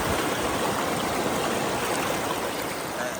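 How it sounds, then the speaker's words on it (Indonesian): The Lopo river flowing: a steady, full rush of running water, close and continuous, with no voices. "Ini aliran sungai Lopo."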